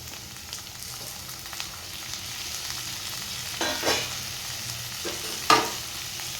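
Cleaned prawns going into a pan of masala spiced with turmeric, homemade masala and Kashmiri masala, making a soft continuous sizzle with a few short stirring scrapes and clatters near the end.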